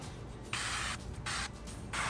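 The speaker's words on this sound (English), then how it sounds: "I'm gonna give it a little bit more spray of that duck fat" Three short bursts of hissing spray from a pump bottle spraying duck fat onto a whole chicken on a Ninja Woodfire outdoor grill, each about half a second, evenly spaced with brief pauses between.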